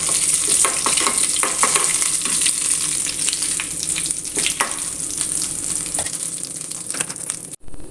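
Curry leaves crackle and sizzle in hot oil for a tomato chutney tempering, a loud, busy spattering with sharp pops and stirring scrapes close up, cutting off abruptly near the end.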